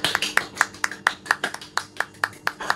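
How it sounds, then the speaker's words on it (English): A small group of people clapping for a subscriber milestone, with about a dozen crisp, fairly regular hand claps close to the mic and no voices. "Round of applause."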